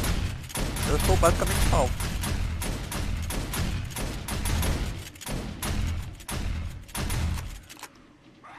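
Automatic gun turrets in the 7 Days to Die video game fire at a zombie horde in rapid, overlapping bursts of loud gunfire with thuds, continuing under someone talking, then cutting off near the end.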